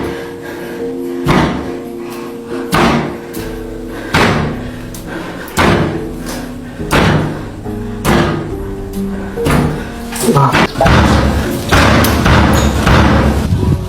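Repeated heavy door banging in a horror story setting, loud thuds and slams arriving roughly every one to one and a half seconds over a low droning music bed, growing denser and more chaotic toward the end.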